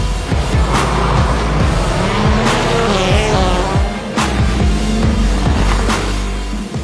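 A rallycross race car starts a final in Riga. Its engine roars loudly and revs through sharp rising and falling gear changes, with tire noise and gravel rumble, close and continuous.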